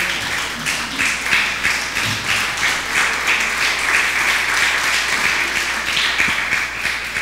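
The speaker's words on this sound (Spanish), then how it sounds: "Regálele a Dios un aplauso fuerte." A church congregation applauds loudly and steadily throughout, a dense wash of many hands clapping at once with no break, filling the room during a worship service.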